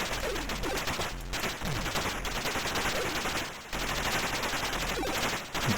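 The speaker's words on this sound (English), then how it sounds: "Oh, he's shooting at me" Enemy gunfire rattles in the Atari ST game Resolution 101: rapid, repeated synthetic shots in bursts over continuous noisy game sound, with no talking.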